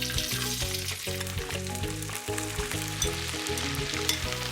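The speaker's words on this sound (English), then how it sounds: "this will fry at 350 for about 5 minutes" Leftover rice with kale and shallot frying in hot oil at 350 degrees, a steady dense sizzle and crackle that holds loud and close throughout, with faint stirring underneath.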